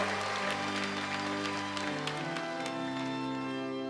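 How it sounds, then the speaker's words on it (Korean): A church congregation claps steadily at a prayer meeting under sustained, ringing organ-like music, the applause a continuous patter throughout. "우리 하나님께 큰 영광의 박수 올려드리겠습니다."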